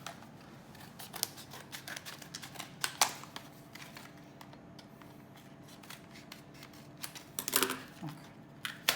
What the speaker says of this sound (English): I've got the scissors here.